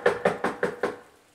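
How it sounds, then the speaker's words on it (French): Five hard, violent knocks pound on a wooden door in a quick, evenly spaced series, loud and close, staged as an audio drama effect with no voices. "on frappe avec violence à la porte"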